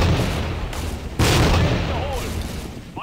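A grenade explodes in Tactical Ops, a tactical shooter: a loud sudden blast sits in an already dense wash of gunfire and game noise, with a voice heard briefly near the end.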